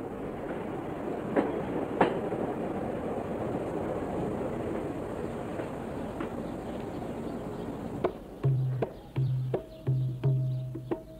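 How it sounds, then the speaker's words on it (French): A train rolls along a railway track in Thailand with a steady rumbling clatter, then slows, leaving distinct rhythmic clickety-clack wheel beats over the rails toward the end. "Le train ralentit"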